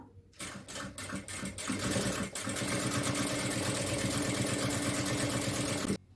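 A sewing machine stitches along the edge of fabric for a nighty, starting with a few stuttering bursts before settling into a loud, continuous, rapid mechanical whir that runs steadily, then stops abruptly near the end.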